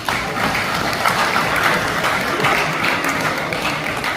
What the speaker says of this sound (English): Can we clap for University of Ilorin?